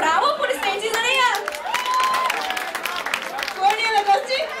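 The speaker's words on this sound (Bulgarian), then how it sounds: "Браво, аплодисменти за нея!" Audience at a finance students' talent show in a Varna disco club applauds and cheers steadily throughout, a dense crowd wash with shouts and whoops layered over it.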